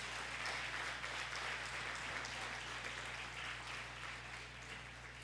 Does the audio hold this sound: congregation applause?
yes